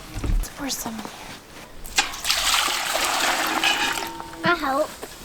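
Milk fresh from a family's cow pours into a container on a farm, splashing and trickling in bursts with a broad liquid hiss, while people talk nearby.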